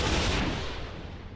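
Anti-missile turrets on a vessel in the From the Depths game fire a rapid, dense burst of gunfire that fades over a second or so, loud and close with no voices.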